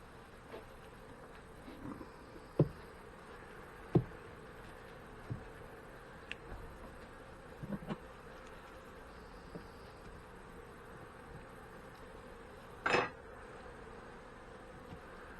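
Honey bees at an open hive during a check for swarm cells, a faint steady hum under the quiet with scattered small knocks and clicks of frames and tools.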